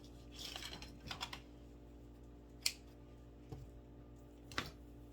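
Twine being cut with scissors while making a planter sign, with a few faint, close snips spaced irregularly over a quiet background.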